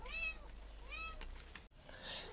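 A cat gives two short, quiet meows close by, one after another, with a faint hum underneath and a soft scrape toward the end.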